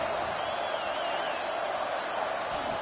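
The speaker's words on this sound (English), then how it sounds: "Listen to the crowd energy here in the early going." A football stadium crowd at a Georgia Tech versus Georgia game roars as a dense, steady wall of cheering and noise throughout, with a broadcast commentator's voice faintly mixed in.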